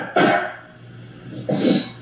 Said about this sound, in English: It's a dog, it's not a cat.